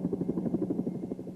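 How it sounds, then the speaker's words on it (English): A CH-47 helicopter approaches a forward supply point, its rotor beating in a steady, fast, throbbing pulse that carries a low drone, heard alone at moderate distance. "A CH-47 helicopter is approaching a forward supply point"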